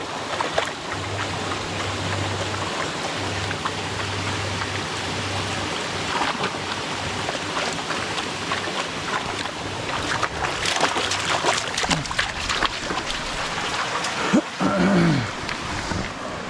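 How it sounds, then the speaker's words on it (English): A clear mountain brook near Marcy Dam in the Adirondacks rushes and burbles steadily and fairly loudly throughout, with a few rustles and knocks near the end. "Nice, refreshing brook."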